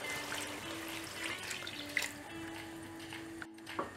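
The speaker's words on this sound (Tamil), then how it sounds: "புளி தண்ணி சேர்த்துடலாம்." Tamarind water pours into a simmering dried-fish curry in a home kitchen, a quiet steady trickle and splash with a soft hum behind it and a brief pause near the end.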